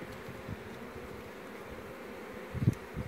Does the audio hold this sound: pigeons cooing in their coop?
no